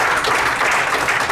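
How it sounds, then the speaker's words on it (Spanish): A church congregation applauding, a dense, loud burst of clapping that fills the short stretch evenly. "¿Cuánto le dan un aplauso al Señor Jesús,"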